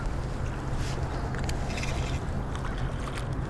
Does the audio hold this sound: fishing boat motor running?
yes